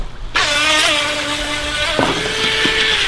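Small remote control boat racing across a lake, its electric motor giving a loud, steady high-pitched whine that kicks in abruptly, holds, then briefly dips and surges with throttle changes.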